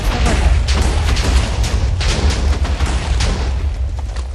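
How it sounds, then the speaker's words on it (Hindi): Continuous loud, dense booming and crackling blasts of a TNT explosion in a video game, with debris rumbling throughout, no pause. "ये बॉम्ब ब्लास्ट तो बहुत धमाकेदार होने वाला है"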